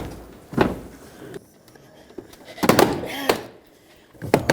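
Plastic clips on a Dodge Grand Caravan front door panel pop loose as the panel is pried off, giving several sharp knocks and thuds with short rattling bursts between them, loud and close.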